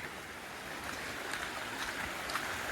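Water rushes down from above at a waterfall near the Mahakali Temple at Saravana, heard as a continuous, even, fairly faint broadband roar with no voices.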